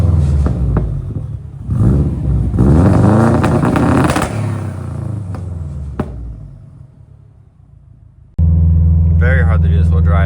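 A tuned Subaru WRX running E85 is driven on the road, its engine rumbling loudly and revving up and down in rising sweeps, easing to a quieter cruise before a deep steady drone returns, with a voice talking over it.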